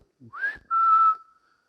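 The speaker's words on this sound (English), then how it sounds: "if you were on stage and you decided to whistle" A single person whistles on a theatre stage: a short rising note followed by a sustained steady tone, clear and close in a quiet space.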